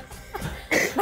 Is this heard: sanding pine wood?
no